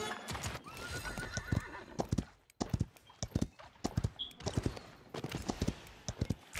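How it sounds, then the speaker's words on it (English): Horse hooves gallop in the online shooter Paladins, a steady run of close, rhythmic clip-clop beats with a whinny, playing alone at moderate loudness for several seconds. "I ride the horse so cool."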